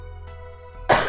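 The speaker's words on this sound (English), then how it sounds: "so you're gonna hear some gross coughing" A single close, harsh cough from someone with a cold bursts out near the end, after a steady tonal game-music background.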